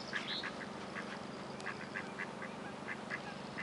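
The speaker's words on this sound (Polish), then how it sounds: "Kaczki! Zobacz!" Several ducks quack repeatedly in short bursts at a lake, over a steady background hum, moderately distant.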